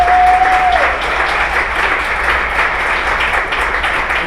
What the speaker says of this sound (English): Sandra, if we can give her a round of applause.